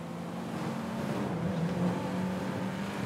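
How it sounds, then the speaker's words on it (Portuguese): Police car engine droning steadily in a GTA roleplay game, a continuous mid-loud hum with a sustained tonal whine throughout and no speech. "O motor da viatura tá horrível"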